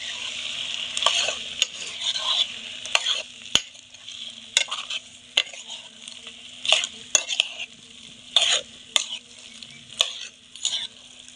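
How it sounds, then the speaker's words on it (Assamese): Chicken meat sizzles and fries in a pan, being stirred so the food scrapes and rustles in repeated bursts over a steady close hiss. "ভাজা হৈ গ'ল আৰু এতিয়া এয়া চাব মাংসখিনি ইয়াত দি দিমগৈ"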